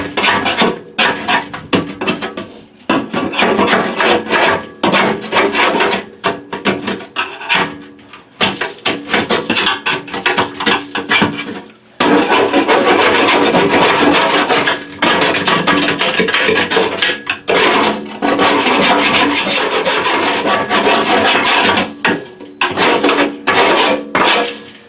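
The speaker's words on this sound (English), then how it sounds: "here's where the scraper comes in really handy again" Metal scraper rasping and clanking against the drum bottom of a K4L drum cooker, loosening soft oil-soak grease; loud, continuous scraping bursts broken by brief pauses.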